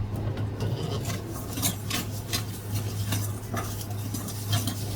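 Green chillies are mixed with mustard oil for pickle, a close, continuous rasping stir with frequent metallic scrapes and soft clinks against the vessel.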